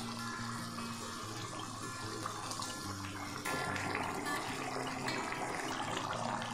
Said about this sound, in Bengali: ঝোলটা ফুটে গেছে, এবার আমি মাছটা দিয়ে দেব।